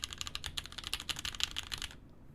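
Typing on a Mekanisk Tind mechanical keyboard fitted with Hippo switches: a quick, steady run of crisp, close keystrokes that stops abruptly near the end.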